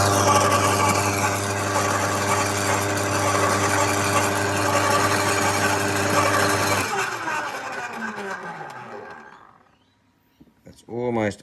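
A bladed cutting machine with a slight gap between its cutting surfaces runs loudly with a steady mechanical drone, then spins down to a stop, followed by a few brief sounds after a pause.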